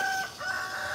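A rooster crows outdoors, one close, loud, drawn-out call with a short break partway through, heard alone with no talk.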